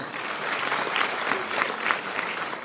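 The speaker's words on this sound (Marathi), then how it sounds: "यांच्यासाठी खरंच एक बार जोरदार टाळ्या होऊ द्या।" An audience in a hall claps steadily, a dense, sustained round of applause with no pause.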